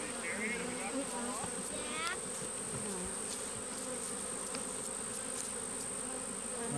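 A loud, continuous buzz of many honeybees swarming close by around a hive frame during a honey harvest, with faint voices underneath the steady drone.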